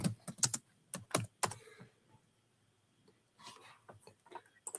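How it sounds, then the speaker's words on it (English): Quick bursts of typing on a computer keyboard, clusters of sharp key clicks separated by a quiet pause, then a further run of keystrokes, close and fairly faint. "I don't know what I be typing sometimes."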